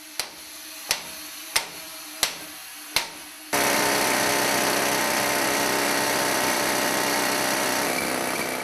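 A pneumatic rock drill bores into a gold vein in hard rock deep inside a mine, starting with five sharp percussive knocks before breaking into a loud, continuous rattling roar close by.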